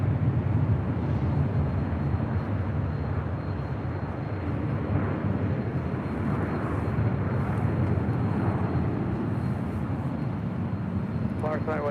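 A steady, loud, broadband jet roar from an airliner taking off from runway 24 left at LAX, sustained throughout with a faint voice in the background.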